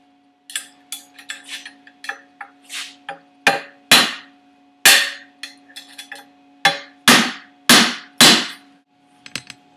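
Prying a wastegate bushing out of a BMW N54 engine, with a series of sharp metallic taps and knocks, some light and quick, others louder and ringing, spaced irregularly, close and alone with no talk.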